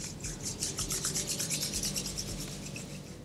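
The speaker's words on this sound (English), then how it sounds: "Rub your palms together." Palms rubbing together during a yoga cool-down, a steady dry brushing friction lasting a few seconds with rhythmic strokes, close and fairly quiet, no talking.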